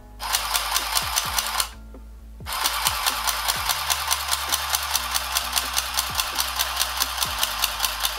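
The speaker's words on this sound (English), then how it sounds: "I am going to sew now." A mini sewing machine stitches fabric with a fast, even mechanical whirring rattle, close and fairly quiet, pausing briefly and then resuming at a steady pace.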